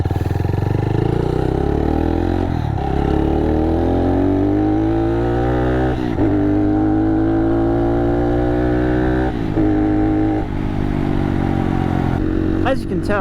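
A Honda Monkey motorcycle fitted with an OVER Racing aftermarket exhaust rides on a road, its throaty engine rising and falling through several gear changes, loud and close throughout.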